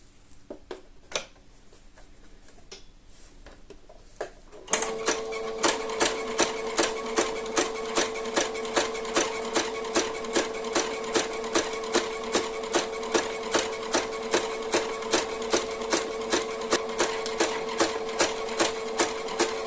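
Sewing machine stitching the side seams of a lining for a bobble-stitch crochet bag, a few faint taps and then a steady, loud run of rapid, evenly pulsed stitching close by, with no talk.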